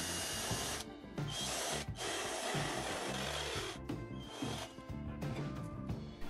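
Power drill boring a 12 mm hole through the side of a metal gas canister, a steady grinding whine in several bursts with brief pauses between them, no talking.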